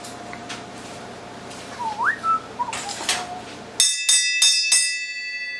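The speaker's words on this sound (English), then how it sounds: "You want to ring the bell, man?" A bell rung during a parts run for a big-block engine swap: several bright, sharp metallic strikes in quick succession, loud and close, following some faint whistling.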